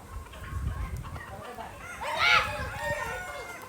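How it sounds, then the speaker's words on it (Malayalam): Chickens at a pet and animal shop cluck steadily nearby, with a rooster's loud crow rising partway through over the ongoing flock noise. "ഇവിടെ നിറച്ചും കോഴികളാട്ടോ, രക്ഷയില്ല"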